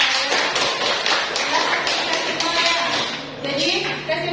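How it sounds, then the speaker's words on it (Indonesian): A short burst of clapping from a small group of students in a classroom, close and lively, with voices mixed in underneath. "Berikan tepuk tangan."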